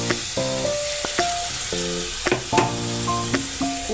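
Dried shrimp sizzles and fries steadily in a pan while being stirred during a Bengali taro-stolon (kochur loti) curry, the crackle continuous and close with no voices.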